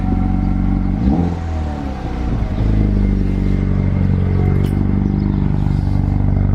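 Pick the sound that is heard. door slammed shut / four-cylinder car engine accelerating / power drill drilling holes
four-cylinder car engine accelerating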